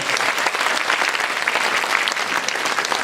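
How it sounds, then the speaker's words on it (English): A concert audience gives loud, dense, continuous applause for a string orchestra at a spotlight concert, the clapping sustained at an even level throughout. "Round of applause for the orchestra."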